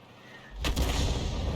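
An M44 self-propelled gun fires in a video game: a quiet lead-in, then a single sudden, heavy artillery boom with a deep rumbling tail.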